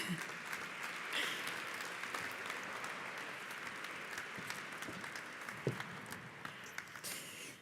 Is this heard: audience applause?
yes